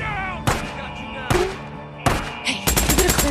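Gunfire in the video game Days Gone: sharp bursts of shots separated by pauses, ending in a rapid automatic volley, heard over a steady background with faint game voices and ambience.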